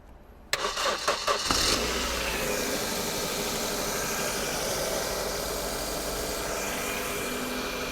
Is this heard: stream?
no